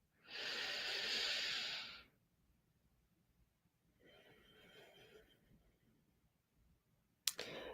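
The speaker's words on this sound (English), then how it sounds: "let's just sit here for a moment and really breathe deeply" Deep breathing during a guided mindfulness pause: one long, close, airy inhale, a short silence, then a softer drawn-out exhale, followed by a brief click near the end.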